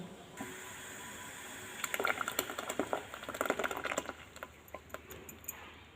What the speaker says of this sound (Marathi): आता आपलं पाणीही उकळलेलं आहे आपण त्या पाण्यामध्ये हे जे मिश्रण आहे ते ओतून घेऊ